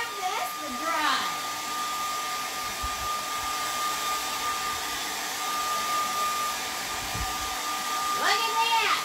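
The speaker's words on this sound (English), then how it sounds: "I'm gonna come in here with my beautiful hair dryer" A hair dryer blows steadily for the whole stretch, a constant airy whoosh with a thin whine, shifting slightly as it moves nearby.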